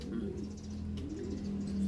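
Pigeons in a loft coo steadily, with a low sustained cooing and some faint chirps and rustling close by.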